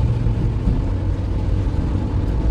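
Engine of an 8-valve Peugeot 206 Type 2 heard from inside the cabin while driving in rain, a steady low rumble with road and rain noise throughout and no speech.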